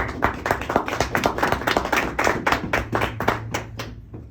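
A small group in a debate class claps in quick irregular bursts, close and lively, fading out toward the end.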